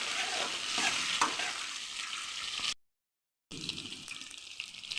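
Onions hiss and crackle loudly in a hot pan with dried chilies, a dense close sizzle with stirring scrapes, broken by a short dead-silent gap before resuming.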